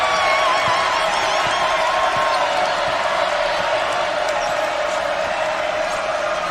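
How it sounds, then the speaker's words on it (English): Loud, steady roar of a basketball crowd cheering inside Mackey Arena at a Purdue women's game against Texas A&M, a dense wall of voices sustained throughout with no pauses. "The crowd making some noise here at Mackey Arena"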